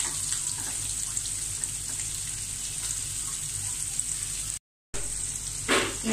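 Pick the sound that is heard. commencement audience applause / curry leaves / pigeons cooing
curry leaves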